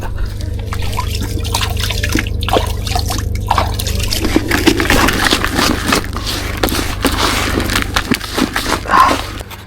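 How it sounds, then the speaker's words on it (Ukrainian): Water trickles and dribbles into a groundbait mix of corn and hemp prepared for night float fishing for carp and crucian carp, a steady close liquid pour with light scraping, no talk. "Зараз трошечки дам водички, хай поп'є і будемо закармлюватися."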